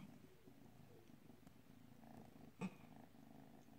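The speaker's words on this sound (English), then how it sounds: "Listen to her purr." A cat purrs softly and steadily up close in a quiet room, a low rhythmic rumble broken by one short louder bump near the end.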